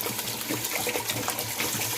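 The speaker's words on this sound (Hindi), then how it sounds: "4 गिलास मैंने पानी डाल दिया।" Water pours steadily into a cooking pot for mutton shorba, a continuous splashing gush, close and fairly loud, with no voices.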